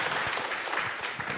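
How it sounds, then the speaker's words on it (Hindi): Brief burst of audience applause at a public event with a district magistrate, a dense wash of clapping at moderate level. "बहुत जोरदार ताली बजाइए प्लीज।"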